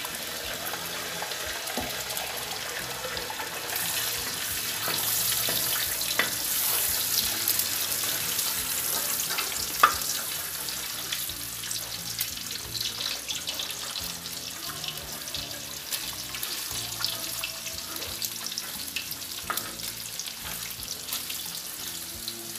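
Four eggs frying in a nonstick pan, broken up and scrambled like an omelette, a steady close sizzle and crackle running throughout with occasional soft spatula scrapes and no voices.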